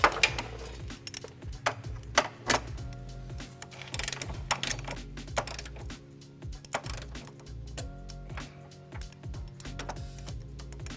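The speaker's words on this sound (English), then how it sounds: "So now that all of our bolts are in place, we're going to go ahead and torque them down. I'm using a torque wrench with a 5-inch extension and a 17mm socket." A torque wrench with a 5-inch extension and 17mm socket tightens trailer hitch bolts on a 2007 Hyundai Tucson, giving a series of close, sharp ratcheting clicks in uneven bursts.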